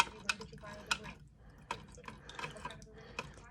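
Water is poured and stirred in a container, giving small splashes, drips and sloshing bursts at irregular intervals, close and fairly quiet.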